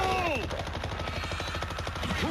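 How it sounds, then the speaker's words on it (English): Rapid machine gun fire in the World War Z zombie shooter game, set in Moscow. A steady rattling burst runs through the whole stretch alongside game music and effects, with no speech. "Facing a machine gun"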